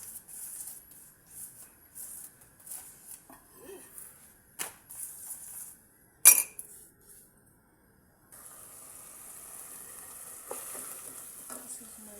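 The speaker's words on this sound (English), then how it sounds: "this is my sauce. It's cooking." Chapati sauce cooks in a pan with a soft, steady sizzle that grows fuller toward the end, broken by scattered utensil taps and one sharp clack, while a voice speaks faintly at times.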